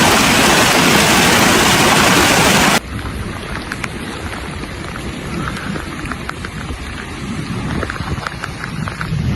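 Heavy rain and hail pounding down in a thunderstorm, a dense roaring downpour with scattered sharp impacts and low rumbles, loud and continuous, first as a harsh wash and then as closer drumming hits, with no voices.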